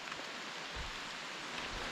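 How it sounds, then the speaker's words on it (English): Heavy rain pours steadily outdoors in Scotland near the wild gardens of Cortachy Castle, a dense continuous hiss with no voices. "I can't believe how heavy this rain came on"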